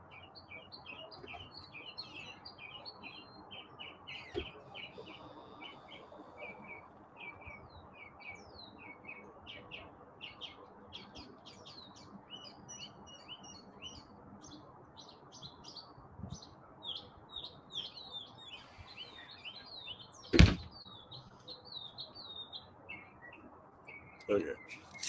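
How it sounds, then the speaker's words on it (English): Small birds chirp and tweet outdoors in a steady stream of short, high calls from several directions, moderately distant, over a faint background hum, with one sharp nearby knock near the end. "listen to the birds for a second."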